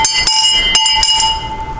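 A 19th-century country school bell rings loud and close in a rapid series of clanging strikes, each leaving a long ringing metallic tone that carries under the next strike.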